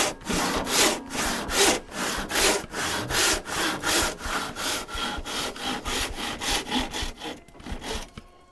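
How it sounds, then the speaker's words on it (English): A handsaw cuts a slice from a piece of wood clamped to a workbench with an F-clamp, its steady back-and-forth strokes loud and close in an even rhythm, continuing without talk. "And again, we're cutting a slice out this time."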